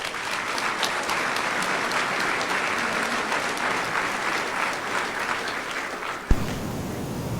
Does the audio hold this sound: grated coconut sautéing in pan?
no